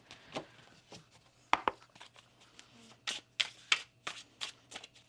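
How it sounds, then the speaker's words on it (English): Oracle cards from an Infinity Oracle deck are shuffled by hand up close, producing a run of crisp, papery riffles and slaps in irregular bursts. "One more shuffle here, please, and thank you."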